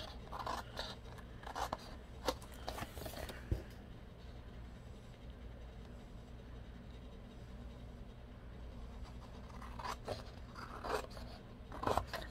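Paper being trimmed with new Fiskars spring-loaded titanium scissors, quiet intermittent snipping and scraping strokes in short bursts at the start and end, with a near-silent stretch between, close and soft.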